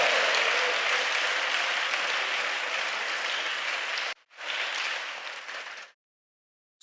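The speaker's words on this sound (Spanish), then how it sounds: "Yo creo que Él merece un aplauso mejor." A church congregation bursts into broad, steady applause, loud and dense for about four seconds, breaks off briefly, then swells again before stopping abruptly.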